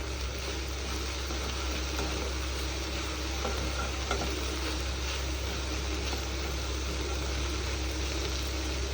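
Spiced curry with meat masala sautés in a pan, giving a steady, continuous sizzle with occasional stirring scrapes, close and even throughout, with no talking.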